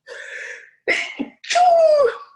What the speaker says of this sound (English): So I'm going to sneeze.